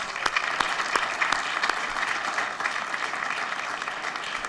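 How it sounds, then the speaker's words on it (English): A school board meeting audience applauding an elementary school Odyssey of the Mind team, a full, even round of clapping from many people, moderately loud and continuous. "Let's give them a round of applause."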